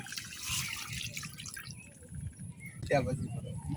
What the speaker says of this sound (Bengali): এখন কড়াই পানি দিয়ে দেম তো এই যে আমি পানি দিয়ে দিতেছি